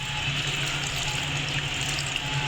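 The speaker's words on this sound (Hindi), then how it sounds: "ठंडा पानी डाल के इसको" Cold water pours steadily from a tap over boiled spinach in a kitchen, a constant hissing splash with no breaks, moderately quiet and with no talking.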